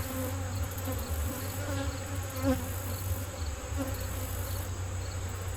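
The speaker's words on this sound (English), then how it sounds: "Look at all of these bees." Honeybees swarm thickly around an open hive with a frame set on the ground, their dense, steady buzzing filling the air at close range and never letting up.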